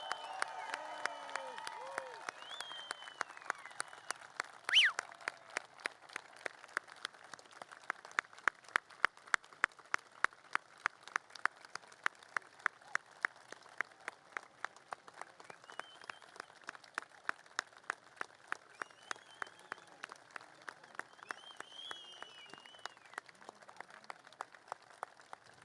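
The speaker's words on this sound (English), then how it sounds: "How about one more really loud, crazy round of applause for these veterans?" A Memorial Day ceremony audience gives veterans a long round of applause, faint and somewhat distant, which settles into steady rhythmic unison clapping and then slowly thins out.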